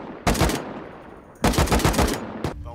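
Automatic gunfire in the survival video game Rust, with two loud bursts of rapid shots about a second apart and a short final shot, over a steady low background hum.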